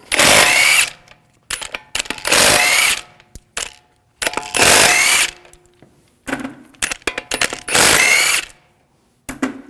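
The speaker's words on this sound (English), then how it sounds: "Now, I'll take the lug bolts out, use a 19mm socket." Impact wrench spinning lug bolts out of a Volvo S60 front wheel with a 19mm socket, five loud whirring bursts about a second each, with metallic clinks and rattles of bolts between them, close up.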